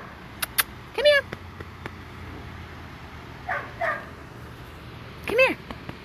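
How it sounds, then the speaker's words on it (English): A few dogs bark and yip in scattered short bursts at a distance, separated by quiet stretches with faint background noise. "The dogs are out next door, as you can hear."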